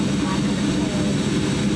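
Steady broadband roar inside an airplane cabin, a continuous engine and airflow drone that holds level throughout, with faint voices murmuring beneath it.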